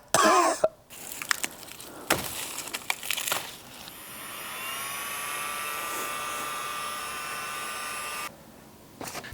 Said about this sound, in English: This is 1/16 inch thick brass, and as long as I go really slow with the saw and use my dedicated blade